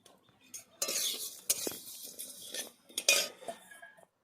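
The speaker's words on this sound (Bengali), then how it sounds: "মশলাগুলো এখন ভেজে নিচ্ছি।" Whole spices are stirred in a hot wok for green chilli pickle, with close metal scraping and clinking of a spatula against the pan in irregular bursts over a faint sizzle, then silence at the end.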